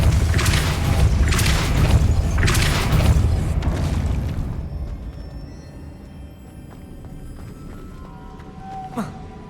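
Depulso spell cast in the game Hogwarts Legacy, heard as a deep rumbling whoosh with repeated bursts early on that fades into a quieter ambient hum, with a short bright ping near the end.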